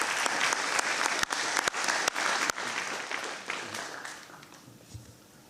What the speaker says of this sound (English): A round of applause to our three disruptors.